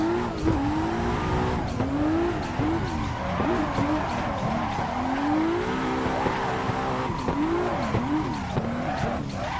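A car drifting in a sim racing game played with a handbrake and shifter, its tyres squealing in long, wavering, repeated screeches over a continuous engine drone, loud and up close with no talk.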